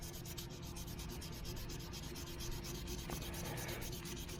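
Steady, rhythmic hand sanding of cast resin, a rapid back-and-forth scratchy rubbing that continues without a break.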